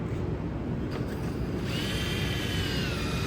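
A power drill spinning a foam ball during a home repair on a deer-damaged 2003 Chrysler Town & Country, giving a loud, steady whirring drone that runs the whole time, close by and without speech.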